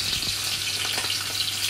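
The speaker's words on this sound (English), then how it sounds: "Frying fish." Steady sizzling and crackling of sea bream frying in hot oil, a constant hissy spatter close by with no voices.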